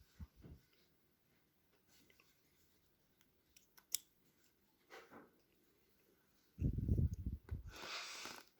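Scissors snipping away the frayed fabric of a worn-out cotton shirt cuff: faint, sparse clicks and cuts, then a louder burst of rustling handling noise near the end, with no voices.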